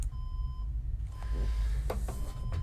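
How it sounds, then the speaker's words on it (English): A household alarm gives a steady electronic beep that stops, then resumes after a pause with a few faint knocks and clatters nearby, no talking. "That is my husband's alarm"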